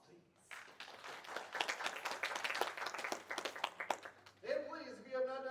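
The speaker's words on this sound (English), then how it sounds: "Let's give them a round of applause, please." A community theater audience claps for the sponsors in a short burst of scattered, moderately loud applause that fades after about four seconds, followed by a voice speaking.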